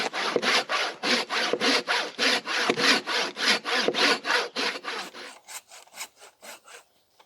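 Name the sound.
hand saw cutting a fallen tree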